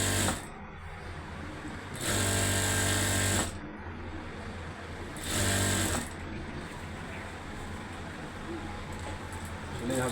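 Electric sewing machine stitching a salwar, two loud, steady whirring runs of a couple of seconds each, separated by quieter stretches where a person talks over faint background noise.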